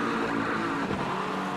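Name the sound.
GT3 race cars passing at Sebring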